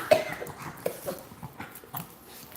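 Dogs boarded at a home kennel make a few short yips and whimpers, with sharp bursts scattered among quieter rustling close by.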